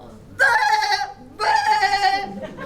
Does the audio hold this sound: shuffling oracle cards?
no